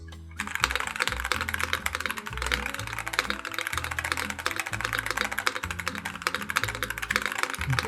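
Typing on a modded 1stPlayer GA87 gasket-mount mechanical keyboard, a dense, steady stream of keystrokes clacking loudly and close up for several seconds, with no talking.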